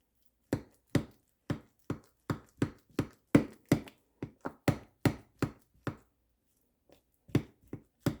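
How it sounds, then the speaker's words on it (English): A spoon presses down again and again into a bowl of kiwi ice cream, giving a rapid series of sharp, close knocks with short pauses between them and no talk. "I'm going to take my spoon and just push down to break up the ice cream a little bit"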